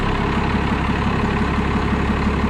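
A 1996 GMC 2500 pickup with a swapped 12-valve Cummins diesel idles close by, giving a loud, steady low clatter with an even rhythmic pulse and no talk over it.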